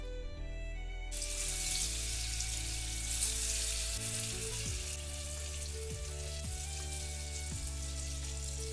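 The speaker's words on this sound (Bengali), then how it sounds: "তেলটা গরম হয়ে আসলে এবার এক এক করে সব বড়াগুলো ভেজে নেবো।" Cabbage-egg pakoras deep-fry in hot oil in a kadai, a steady bright sizzle that flares up after a second and continues evenly, with soft low bumps beneath and no voices.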